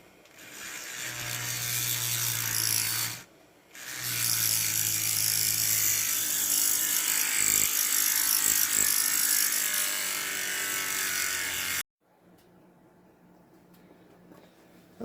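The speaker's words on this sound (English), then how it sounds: "so obviously, first I gotta drill this out." A high-pitched rotary tool drilling out a rivet on a Matchbox die-cast car whines steadily, pausing briefly once, then grinding on for several seconds before cutting off to quiet.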